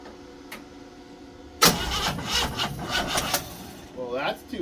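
A 1936 Oldsmobile engine cranks and catches. After a quiet start, a sudden loud onset gives way to an uneven, sputtering idle with irregular bursts, heard close by, with a voice near the end.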